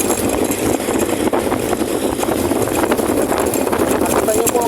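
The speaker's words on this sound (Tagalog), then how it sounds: "Nakita nyo po kung gaano kalakas yung makina." A Racal MD100 motorcycle engine running after a fuel line cleaner treatment, a continuous loud idling drone close by, with someone talking over it throughout.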